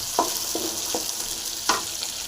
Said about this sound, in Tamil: அடுத்தது பூண்டு நல்லா ஃப்ரை இது பச்சை மிளகா எல்லாம் நல்லா க்ளீனாக ஃப்ரை பண்ணிக்கலாம்